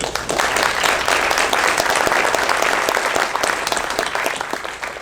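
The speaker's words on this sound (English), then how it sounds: "So let's clap for these guys." An audience in a theater claps for candidates at a local election forum, a loud, continuous burst of many hands with sharp individual claps showing through, holding steady before tapering slightly.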